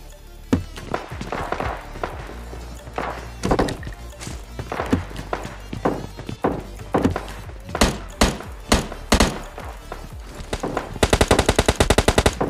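Gunfire in the mobile battle royale game PUBG Mobile Lite, with scattered single shots and bursts building to a rapid automatic volley at the end, loud and close.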